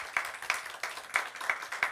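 Church congregation at a Sunday service clapping in a steady rhythmic beat, quiet and somewhat distant, with evenly spaced claps.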